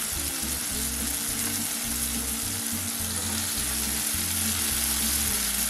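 Cut brinjal fries with softened tomato in a pan, producing a loud, dense, steady sizzle with a low rhythmic bubbling underneath and no voices.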